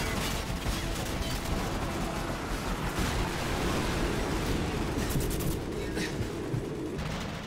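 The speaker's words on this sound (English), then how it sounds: "Tanker behind us is about to explode apparently." Tanker explosion in the Modern Warfare video game, a dense, loud, continuous roar of blast and debris noise that stays steady for several seconds with crackling bursts on top.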